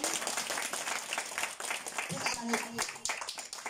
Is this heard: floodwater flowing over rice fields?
no